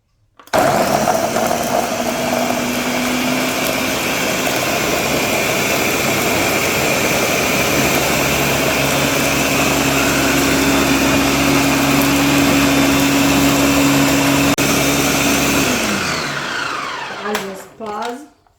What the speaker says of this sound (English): so let's just cover and proceed to blend